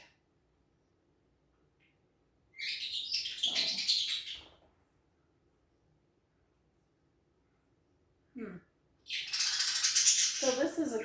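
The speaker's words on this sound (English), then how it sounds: "That's my parakeet in the background." A pet parakeet chirping in a room where a freeze dryer's oil is being changed, two bursts of bright tweets and rattling calls separated by quiet, heard alone without talk.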